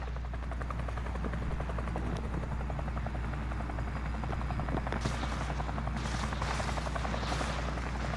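A helicopter flies in a video game's Plunder mode, its rotor drone loud, steady and close for the whole stretch, with no talking over it.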